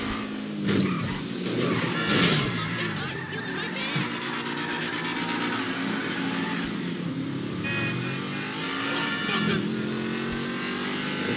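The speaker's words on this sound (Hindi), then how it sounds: "तेज तेज चलता हूँ गाड़ी में" Car engine revving and accelerating hard in GTA 5, loud and continuous with rising and falling pitch as the driver speeds along, game music or effects layered underneath.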